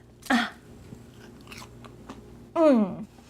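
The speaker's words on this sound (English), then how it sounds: "Can you hear that crunch? Those are crunchy." Two sharp, crisp bites into crunchy baked fries topped with chopped cilantro and green onion, heard close up and separated by a quiet pause with faint mouth sounds.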